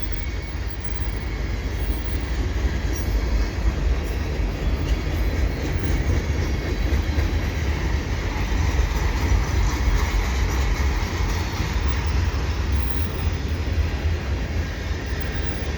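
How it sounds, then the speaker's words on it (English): A CP freight train led by a Heritage SD70ACU locomotive rolls past in winter, a continuous loud rumble and rattle of wagons that holds steady for the whole stretch with no talking. "this is the eastbound train."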